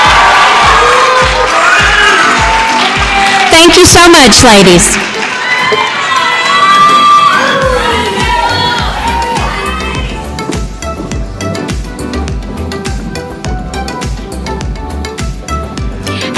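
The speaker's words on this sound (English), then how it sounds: "Let's give them one more big round of applause." A pageant audience cheers and whoops for the freshman class contestants, with loud crowd noise and high shouting voices swelling early, then thinning into a noisy hall as an announcer speaks over it.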